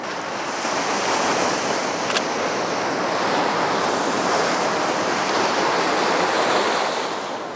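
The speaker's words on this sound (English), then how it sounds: "And we're just going to wait for a wave." Ocean surf breaking steadily on the shore at sunrise, a continuous loud wash of waves with some wind noise across the microphone, no voices.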